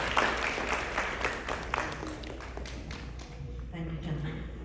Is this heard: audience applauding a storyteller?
yes